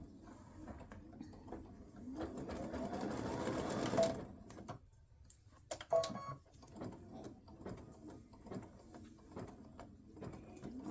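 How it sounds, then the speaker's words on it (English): A sewing machine stitches a satin stitch for a Thanksgiving turkey tic-tac-toe game piece, a rapid steady mechanical whir and rhythmic needle ticking, with a speed-up and brief pauses, close and fairly quiet. "I'm going to stitch the actual satin stitch."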